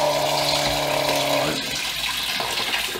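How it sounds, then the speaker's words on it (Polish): Tap water runs steadily for about a second and a half in what sounds like a room with women nearby, then drops to a softer trickle and splash, moderately loud and close. "Ciepła woda, coś tu leci."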